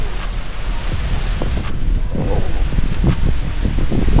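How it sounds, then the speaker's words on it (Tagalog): Strong typhoon wind blowing outdoors in Vigan City, a steady loud broadband roar with gusting rustle and buffeting across the whole stretch, continuous and close. "Lakas ng hangin, sobra."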